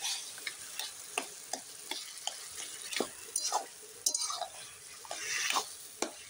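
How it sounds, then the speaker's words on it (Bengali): Cooked taro leaves mashed with a spatula in a pan, repeated close clicking scrapes and knocks of metal against the pan at an irregular rhythm over a soft background sizzle. "এখন আমি ভালো করে খুন্তি দিয়ে ম্যাশ করে দিচ্ছি।"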